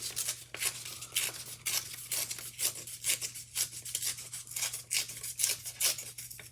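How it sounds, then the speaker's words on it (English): Paper rips in a series of quick, close tearing strokes while a stencil is prepared for a journal layout, each tear a short rasping burst over a low steady hum. "Does anybody else like the sound of paper ripping?"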